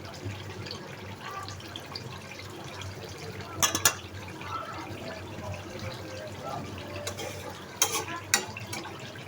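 Black bhuna-style chicken curry stirred in a pan, a steady soft scrape-and-sizzle texture throughout with two brief bursts of sharper clatter near the middle and end.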